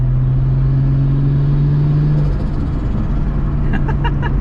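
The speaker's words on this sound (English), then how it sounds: "the turbo sounds insane too" A turbocharged Nissan Skyline R33 engine idles with a steady drone, then the revs rise into a deeper rumbling growl, close and loud.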